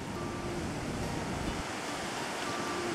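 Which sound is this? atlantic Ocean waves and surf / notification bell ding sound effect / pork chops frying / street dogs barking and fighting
atlantic Ocean waves and surf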